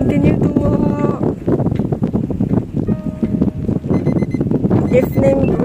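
Strong gusty wind at a seaside in Sabah, where the waves are big, roars steadily and loudly across the whole stretch, with voices faintly mixed in.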